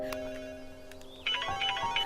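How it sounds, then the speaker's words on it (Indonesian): A mobile phone ringing with an incoming call, a short faint electronic ringtone melody rising in the second half over a quiet background. "ia mendapatkan telepon dari Sung-yeon."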